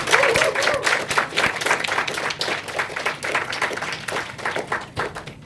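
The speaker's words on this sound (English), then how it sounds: "A big, big round of applause to my team," Audience applause at the close of a girls' summit on the cost of early forced marriage: lively clapping from a modest crowd, with individual claps distinct and steady for about five seconds, close and fairly loud.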